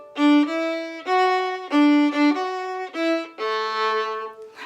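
A violin plays a short phrase of Yankee Doodle in lilting swung eighth notes, bright and close, finishing on a sustained note.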